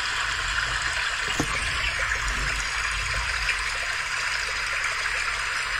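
River water flows continuously, a steady rushing and trickling sound recorded on an Olympus DM 770 voice recorder, close and fairly loud throughout, with one brief knock partway through and no talk.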